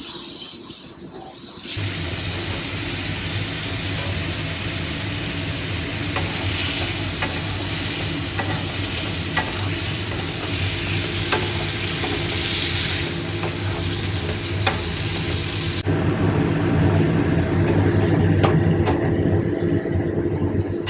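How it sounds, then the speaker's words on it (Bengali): Pointed gourd (potol) sizzles steadily while frying in a pan, with occasional stirring scrapes close by; the hiss runs continuously and grows slightly louder and busier toward the end. "এখানে পটল ভাজা হলো"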